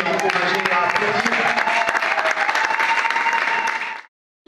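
An audience claps steadily and densely for several seconds at a literary event, the applause cutting off abruptly near the end.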